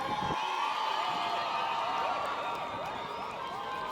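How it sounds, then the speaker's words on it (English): Crowd at the Miss Indoni 2021 Zulu maidens' and young men's dance event cheers and claps, with shrill whoops and ululating cries over a continuous roar of voices. "a round of applause"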